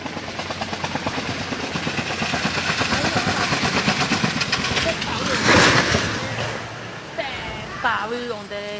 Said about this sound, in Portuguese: Helicóptero, Lubo!